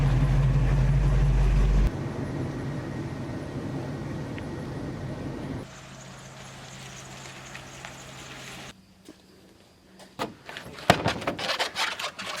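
A 1979 Pontiac Trans Am engine idles with a loud, steady low rumble that softens partway through, then gives way to quieter sounds and a few sharp knocks near the end.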